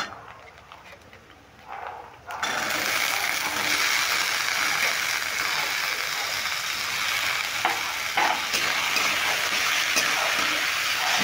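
Cut potatoes stir-fry in a pan with Gobindobhog rice and moong dal, a loud steady sizzle kicking in abruptly after a quieter start, with scraping stirring sounds throughout.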